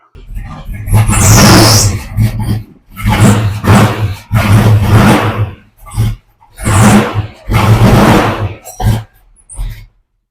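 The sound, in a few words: Ford Mustang 351C engine running rough on Holley Sniper EFI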